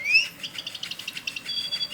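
A toy bird meant to fly gives off quick, high electronic chirps in a steady pulsing run, close and fairly quiet, with no talking over it.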